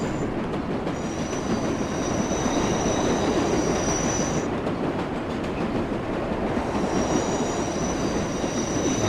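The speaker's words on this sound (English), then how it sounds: "Oh, another train there. Another train coming in." A subway train pulls into a station in the World of Subways 4 video game: a loud, continuous rumble of rolling wheels with high metallic squeals that come and go.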